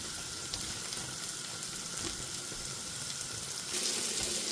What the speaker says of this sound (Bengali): কিছুক্ষণ কষে নিলাম পেঁয়াজ রসুন কাঁচামরিচ